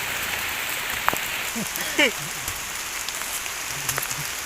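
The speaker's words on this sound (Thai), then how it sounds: "ฝนตกหนักเลยพี่น้องวันนี้" Heavy rain pours down steadily during a mushroom foraging trip in Thailand, a constant close hiss of drops, with a few brief thuds and faint voices in the background.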